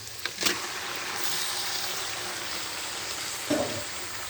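Two kilos of chicken meat tossed into spices frying in a pan for a golden chicken curry, giving a steady hiss of sizzling with a couple of short clattering knocks near the start and end.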